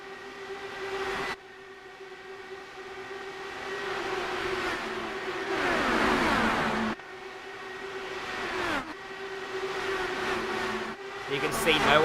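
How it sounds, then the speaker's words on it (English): Race cars run at full throttle around an oval racetrack at Michigan, loud engines droning and swelling as they pass close by, with sharp cuts between passes and tonal whines shifting in pitch. "listen in to the sounds of these cars because they sound truly beautiful at full noise around this racetrack"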